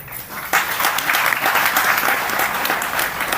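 Audience applause at a devotional lecture gathering in Bagalkot, breaking out sharply after half a second and then holding as loud, dense, sustained clapping from a sizeable crowd to the end.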